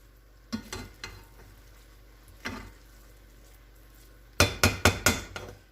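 Garlic and onion fried rice pushed around a hot pan with a utensil, giving scattered scraping clinks and sizzle, then a quick burst of four or five sharper scrapes and taps near the end, with no talking.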